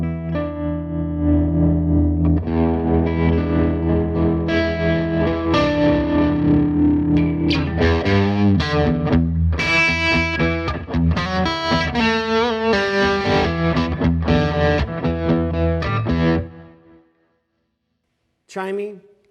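An electric guitar played through a Bad Cat Black Cat amplifier with tremolo engaged rings out in distorted, effects-laden chords and lines. It plays continuously for most of the stretch, then cuts to silence before a short final burst.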